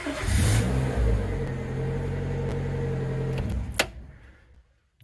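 A Renault Scenic engine starts and revs, running loud and steady close by with a low rumble, then cuts off abruptly near the end and leaves near silence.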